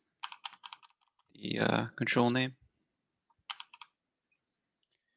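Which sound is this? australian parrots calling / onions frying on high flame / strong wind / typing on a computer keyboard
typing on a computer keyboard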